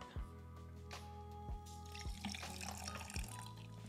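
Matcha latte poured over ice cubes in a glass, a steady close liquid stream with repeated soft clinks and shifting ice throughout, no voices.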